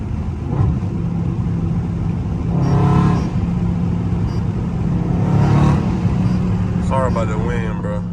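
A Dodge Charger Scat Pack engine in traffic, its loud droning exhaust swelling in two revving surges with hard gear changes, while someone talks over the steady engine rumble.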